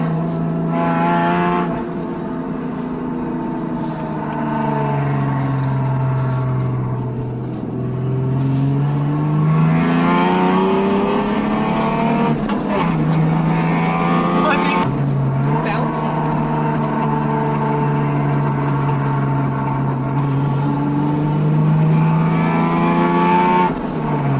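A Ford Mustang V6 with a 5-speed manual drives and revs, engine note rising and falling through several gear pulls and shifts, loud and close from inside the car, with people talking over it.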